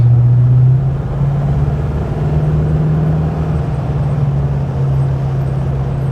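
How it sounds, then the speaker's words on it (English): A deep, steady V8 exhaust rumble from a 1965 Buick Riviera Gran Sport, with a strong low drone that shifts slightly in pitch, loud and close, cruising along. "I hope that you can hear the exhaust note on this car because it sounds terrific."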